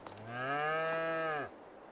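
A single long cow moo from the farming video game Farming Simulator 22, clear and sustained for about a second before dropping off, with no voices over it.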